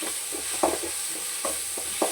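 Chopped tomatoes and onions sautéing in a pan for a village-style country chicken curry, steady bright sizzle with a few soft stirring scrapes at regular intervals, close and continuous with no talk.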